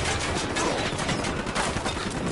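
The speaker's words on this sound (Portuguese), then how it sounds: "tem um franco-atirador!" Gunfire from a sniper in the video game Ghost Recon Wildlands, heard as a dense run of sharp cracks and bursts layered over one another, loud and continuous across the whole stretch.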